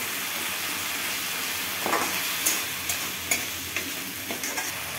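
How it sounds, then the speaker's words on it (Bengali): Spices and tomato paste for rajma curry fry in a pan under a steady hiss, with scraping stirs and sharp clinks of a spoon against metal coming in the second half. "এখন মশলাগুলো একসাথে ভালো করে কষিয়ে নেব"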